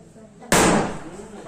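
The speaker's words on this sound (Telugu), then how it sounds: "టపాకాయల చప్పుడు మీకు వినిపిస్తుంది వీడియోలో" Firecrackers burst at a child's birthday celebration: a single loud, sharp crack lands suddenly, followed by a second of crackling, rumbling decay, with faint voices and background noise before the blast.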